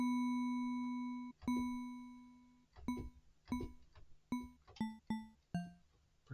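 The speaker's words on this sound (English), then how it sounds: "Get some bells and stuff out of this one." Bell-like synthesizer tones from an Arturia Pigments 6 software synth, first two long sustained notes, then a string of shorter struck notes with bright harmonic overtones, clear and alone without talk.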